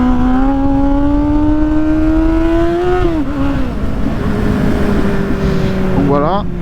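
A Kawasaki Z800 motorcycle engine revs high during a wheelie and holds a steady whining pitch, dipping briefly midway, then climbs again in a quick burst near the end, loud and close.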